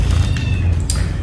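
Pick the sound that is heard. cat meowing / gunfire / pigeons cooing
cat meowing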